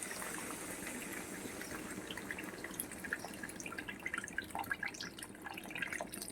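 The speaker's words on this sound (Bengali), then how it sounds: "এবার আমি জল দিয়ে দেবো জল দিয়ে দিচ্ছি" Water pours and splashes into a pan of cooked-down spices for a curry, a soft continuous trickle with scattered drips and bubbling, fairly faint.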